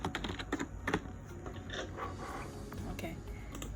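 Someone types on a computer keyboard in a rapid, close burst of clicks, which then thins to a soft, steady background with occasional taps.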